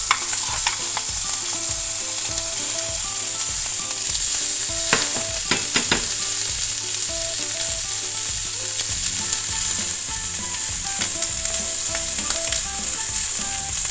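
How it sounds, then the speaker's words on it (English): Chopped onions sweating in a hot pan as they are stirred for a steak sandwich with pepper sauce, a steady close sizzle broken up by repeated scraping strokes of the spoon across the pan throughout. "So we're mixing around our onions"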